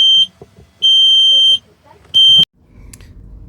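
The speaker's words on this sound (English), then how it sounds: "There goes the gas alarm, which means we're live." A boat's gas alarm beeps at power-on: three loud, steady high-pitched electronic tones, the first two long and the third shorter, each stopping sharply, with faint handling noise between and after.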